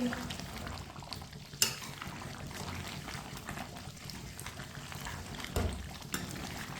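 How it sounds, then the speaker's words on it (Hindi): Chicken cooking over high heat in a pan while a spoon stirs it, giving a steady close frying hiss with occasional louder scrapes of the spoon against the pan. "इसे चम्मच चलाते हुए 2 मिनट के लिए तेज़ आंच पर पका लेंगे"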